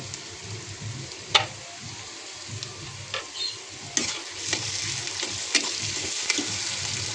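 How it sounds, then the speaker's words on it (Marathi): Chopped tomatoes fry in an oiled pan for a cluster bean curry, a steady close sizzle broken by sharp clinks and scrapes of a spoon stirring, with no one talking. "टोमॅटो आपलं चांगलं फ्राय होऊ द्यायचं चांगलं शिजू द्यायचं"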